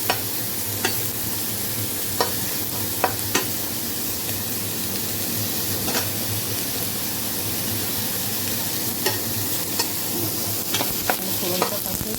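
A spice tempering fries steadily in hot oil in a pan, a continuous close sizzle broken now and then by small clicks and taps of stirring, with no talk.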